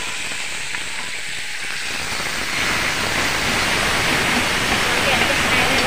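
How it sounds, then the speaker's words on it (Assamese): Tomatoes hiss and sizzle in hot oil, a steady broadband frying noise that swells louder partway through and holds, heard close up without any voice in the clip. "এতিয়া মই এই বিলাহীকেইটা ইয়াতে তেলতে দি দিম"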